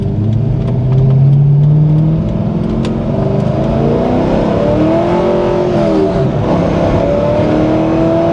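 A 2000 Chevrolet Corvette C5 FRC engine revs hard and swings up and down in pitch as the car spins a donut, loud and close, with tire noise mixed in and no talking.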